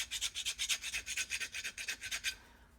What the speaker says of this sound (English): I lightly file this bushing down